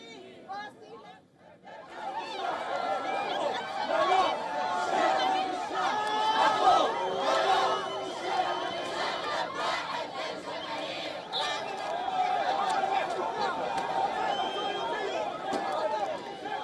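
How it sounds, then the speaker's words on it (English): A large crowd of protesters outside the Israeli embassy in Greece chants and shouts for Palestinian freedom in clashes with riot police, a dense, continuous roar of voices with rising calls, heard at moderate distance and under a narrator's voice. "In Greece, protesters clashed with the riot police outside the Israeli embassy, chanting for Palestinian freedom."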